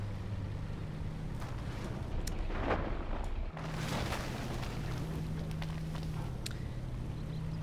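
Explosions and artillery-like booms from a tank warfare video game, a dense continuous roar of blasts with a sharper burst near the middle, loud and steady throughout with no talk.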